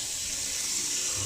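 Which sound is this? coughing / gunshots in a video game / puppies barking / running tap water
running tap water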